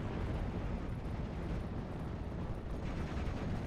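Nebelwerfer rocket artillery and other guns pound away in a World War II strategy game battle, a continuous rumbling wall of distant blasts and mechanical noise with no clear individual shots.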